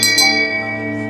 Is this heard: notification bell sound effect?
yes